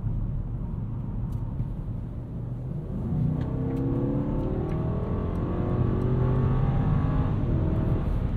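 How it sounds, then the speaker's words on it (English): A 2024 Mercedes-Benz GLS580 4MATIC pulls hard out of a corner, its engine note rising steadily in pitch with a loud, continuous, close-up drone as it accelerates. "Give it a boot full out of the corner."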